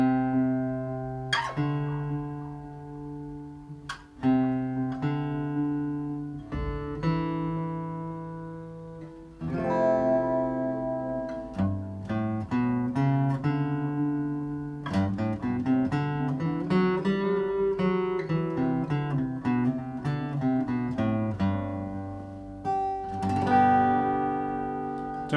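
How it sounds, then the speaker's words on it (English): Acoustic guitar played through a Fishman Loudbox acoustic amp with a delay pedal switched on, a steady run of plucked notes and strummed chords ringing with repeating echoes, close and clear with no talking. "So if I put on my delay pedal"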